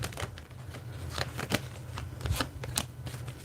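Tarot cards being shuffled by hand, a close, continuous riffle of soft papery slaps and flicks with irregular sharp snaps throughout.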